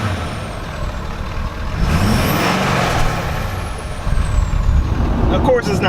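Diesel engine of a lifted truck with twin turbos, a loud steady drone with a rising then falling pitch sweep as it gets up to speed, someone talking over it.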